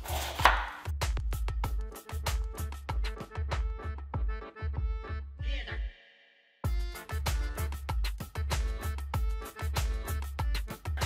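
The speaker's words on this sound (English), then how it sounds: "we're just gonna get started chopping" Rapid, rhythmic knife chops strike a cutting board in steady runs as bell peppers are cut, with a brief pause midway before the chopping resumes.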